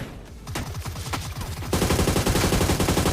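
Rapid automatic gunfire in a shooting video game, loud and continuous, with bursts of shots that grow denser and louder partway through, with no talking.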